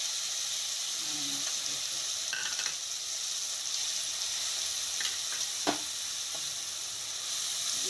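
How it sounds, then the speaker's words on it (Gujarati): Ingredients tipped into hot oil in a pan while making cheese Maggi with garlic chutney, giving a steady bright sizzle with a few soft clinks and stirring knocks throughout. "તો હવે આપણું તેલ ગરમ થઈ ગયું, એમાં આપણે બધી નાખી દઈએ"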